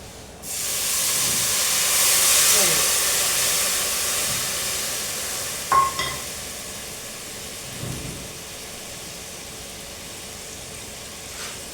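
Water poured into hot cooked masala for a Malwa-style torai curry sets off a loud steaming hiss that swells, then slowly fades, with a couple of sharp clinks partway through.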